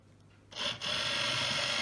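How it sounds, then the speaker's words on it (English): A small fan driven by a DC motor in a model belt dryer starts up abruptly, then runs as a steady, close whirring hiss with a brief dip just after starting. "A small fan down below, imitating the drying process, and this is driven by a DC motor"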